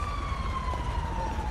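A police car siren in a video game, a single steady wailing tone over low rumble, moderately loud and continuous through the brief moment, with no talk.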